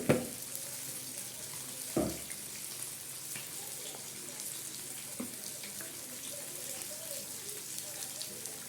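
Steady splashing of running water with a couple of sharper knocks as half a kilo of rice is rinsed under a tap in a sink.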